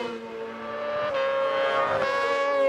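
Racing sidecar outfits with 600cc stock-spec engines at Oulton Park during a British Sidecar Championship race, a loud steady engine whine with strong harmonics that swells slightly as the machines pass close by.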